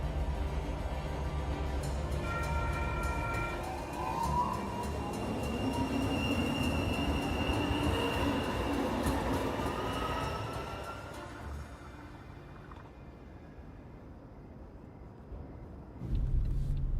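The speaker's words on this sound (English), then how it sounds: "Metro Center bound train." A Metro Center-bound metro train passes with a loud, sustained rumble and faint wheel squeal. The sound fades out after about eleven seconds, and a new noise rises at the very end.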